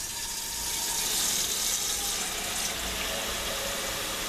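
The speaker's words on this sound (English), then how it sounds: "Let's put the water in." Water running from a tap into a pot of rice for a broccoli, rice and cheese casserole, a steady close splashing fill that continues without a break and without speech.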